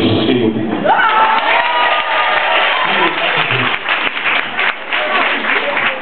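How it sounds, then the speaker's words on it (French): Loud audience applause at a women's peace network gathering, dense clapping mixed with cheers, whoops and crowd voices, continuous and close throughout. "On applaudit Papa Noël."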